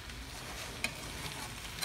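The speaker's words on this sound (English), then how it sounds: "I'm gonna run over here real quick and stir my potatoes again because you don't want them to burn" Potatoes fry in a pan with a steady faint sizzle while a utensil stirs them, one or two brief scraping clicks rising above the hiss.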